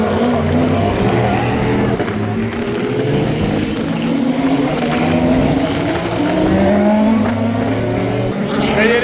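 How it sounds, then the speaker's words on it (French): Race cars roar away at the start of a huge motorsport event, class after class of prototype and GT machines, loud overlapping engines climbing in pitch as they accelerate past with a constant crowd wash behind. "Ça y est, les voitures partent"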